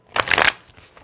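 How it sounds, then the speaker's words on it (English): A deck of cards shuffled quickly once during a tarot-style reading, a short dense riffle burst lasting about a third of a second, close and fairly loud, then fading to quiet. "all right, quick shuffle."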